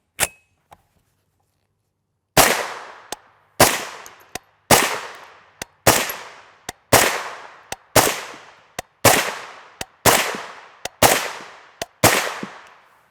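A BRN-180 rifle fitted with a Yankee Hill Phantom M2 suppressor fires about a dozen muffled shots at a steady, unhurried pace. Each sharp crack decays quickly, after a couple of faint clicks at the start.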